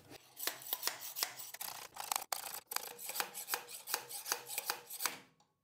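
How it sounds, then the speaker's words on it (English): Slide hammer pulling the crank off a silent air compressor's shaft during a teardown, a close series of sharp rhythmic metallic knocks and scraping strikes, steady and repeated, then falling silent. "let's see if we can slide hammer this off"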